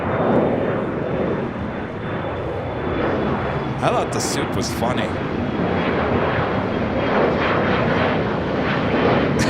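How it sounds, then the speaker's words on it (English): Jet airliners roaring at Los Angeles International Airport, a loud sustained engine rumble and whine filling the scene while someone talks over it, with brief sharper bursts midway. "what is it with all that jet noise?"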